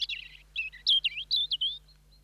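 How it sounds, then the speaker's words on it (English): A songbird sings a quick series of clear, high chirping notes in short bursts over about two seconds, close and distinct against a quiet background with a faint low hum. "Probably one of the oldest questions concerning learning relates to bird song."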